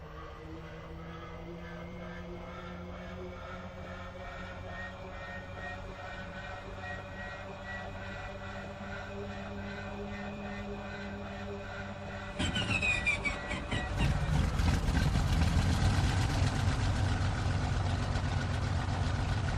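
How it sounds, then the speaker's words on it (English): A Bf 109 G-4 in a flight simulator game whines and hums steadily as it winds up, then at about two-thirds through the engine catches and bursts into a loud, rough, rumbling roar that keeps running. "Now we'll start the airplane"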